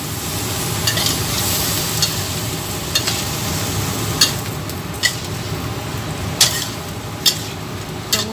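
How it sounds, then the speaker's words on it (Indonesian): Tofu skin and celery stir-fry in oil with a loud, continuous sizzle, punctuated every second or so by sharp clicks of a spatula stirring against the pan. "kita aduk."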